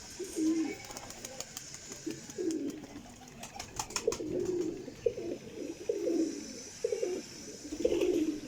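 Repeated low cooing from a Salara Cheena flying pigeon, about six throaty phrases spaced a second or so apart, near and clear over faint clicks and background hiss.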